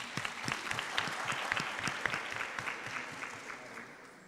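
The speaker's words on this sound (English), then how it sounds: "we can clap for him once again." An audience at a university research day event applauds the next speaker, steady dense clapping from many hands in a hall, tapering slightly toward the end.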